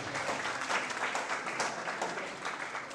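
A graduation crowd applauds, a dense, continuous patter of many hands at moderate distance, unbroken from start to finish.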